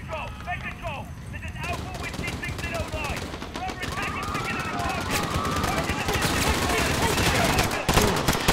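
Rapid automatic gunfire and scattered shots from Call of Duty Modern Warfare campaign combat in London, a dense continuous barrage with voices talking over it.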